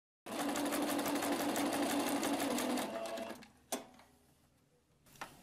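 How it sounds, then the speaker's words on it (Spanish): A home sewing machine runs stitch pattern 69 along the very edge of a fabric piece. It hums steadily and loud for about three seconds, then stops, followed by a couple of sharp clicks. "De nuevo selecciono la puntada número 69 y la voy a coser también aquí en la pura orilla."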